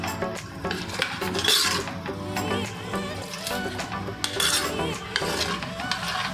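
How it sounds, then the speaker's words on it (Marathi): Scraping and clinking of a spoon stirring vegetable pulao rice in a metal pot, with uneven knocks against the sides, close up. "आता आपण व्यवस्थित ढवळून घेऊया."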